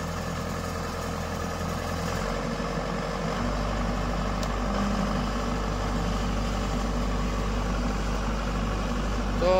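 A Swaraj 744 FE 4WD tractor idles nearby with a steady low diesel rumble that deepens and grows louder after a few seconds, then holds an even drone to the end.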